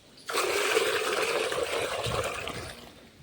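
Water gushes out of an outdoor tap or pipe on a farm. It starts abruptly and keeps a steady, splashing rush for about three seconds, close by, with no talking.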